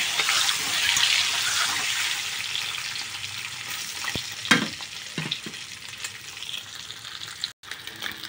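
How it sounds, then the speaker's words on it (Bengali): Eggs frying in oil with turmeric, stirred in the pan for a curry: loud bright sizzling that gradually settles, broken by several scraping and clinking strokes of a spatula near the end. "এবার ডিম দিয়ে দেবো, একটু নাড়াই ছাড়াই নেব, লাল লাল করে ভেজে নেব।"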